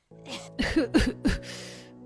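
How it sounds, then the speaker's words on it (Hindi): A woman coughs from the smoke of a clay cooking stove, giving three or four close, harsh bursts in quick succession after a short breathy start, nearby and moderately loud. "खांस खांस कर उठ जाती है"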